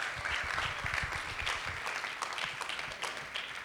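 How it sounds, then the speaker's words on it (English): A summit audience claps together, a full, even wash of applause with some low rumble underneath, sustained throughout. "you can clap, it can be interactive."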